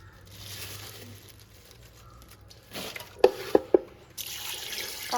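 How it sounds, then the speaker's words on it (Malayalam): Water runs from a kitchen tap while chicken legs are washed, a soft intermittent splash with a few sharp drips and clinks, then a louder gush of flowing water at the end, no talking. "നമുക്കത് വേഗം കഴുകിയിട്ട്"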